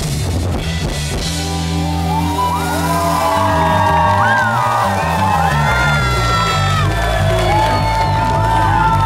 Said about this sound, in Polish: Wielkie brawa dla tego wspaniałego chóru